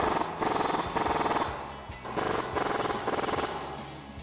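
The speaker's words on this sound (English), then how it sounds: "I'm going to grab my 15mm swivel socket and tighten those bolts down" A tool tightens the front strut bolts on a 2015 Mustang with a 15mm swivel socket, giving repeated loud bursts of rapid mechanical rattling, several on-off runs separated by short pauses.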